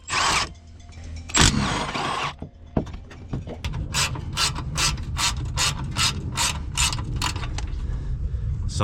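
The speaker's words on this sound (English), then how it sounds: "Some places it's going to be better to have a ratchet." A hand ratchet removing 16mm bolts from a Hooke Road bumper's frame bracket clicks rapidly and evenly at close range, after some scraping and handling of metal parts.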